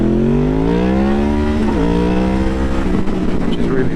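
A Honda VFR 800 motorcycle with an aftermarket exhaust accelerates loudly and close by, its engine note climbing in pitch, dipping briefly at a gear change, then rising again.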